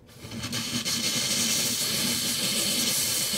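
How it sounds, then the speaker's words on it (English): Steady, loud hiss of a steam cleaner blasting steam onto a Ninja Foodi XL grill, rising quickly at the start and then holding a continuous rushing tone with no talk. "Now it's getting some steam up and in there."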